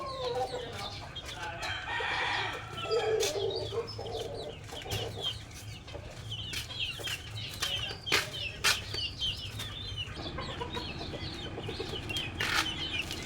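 White Kelso brood stag gamefowl rooster in a backyard, clucking and crowing close by, with wing flapping among other fowl calls, steady bird activity throughout and no talk.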